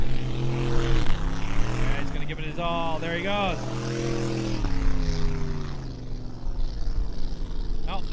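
An airplane flies over Lake Washington during a Seafair hydroplane race, a steady engine drone under crowd noise and a loudspeaker announcer talking throughout.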